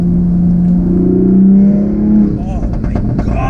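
A stage 2 tuned 2020 Toyota Supra pulls hard under throttle in fifth gear, its loud engine note droning steadily and rising in pitch, with the car close by and some wind and road rush underneath.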